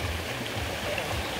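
A swollen river rushes steadily nearby, a continuous watery roar with faint gurgles and no voices.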